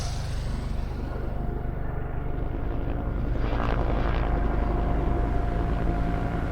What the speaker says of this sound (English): Planes set up smoke screens to hide their fleet from enemy ships.